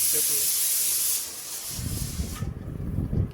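A pressure cooker on a home stove lets off a loud, steady hiss of escaping steam for about a second and a half. The hiss then fades into quieter clatter and rustling nearby.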